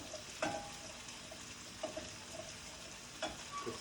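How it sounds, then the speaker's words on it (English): Onions frying in a pan for risotto, a steady soft sizzle with a few brief louder scraping stirs spaced through, no talk. "You see the onions are nice and translucent and soft."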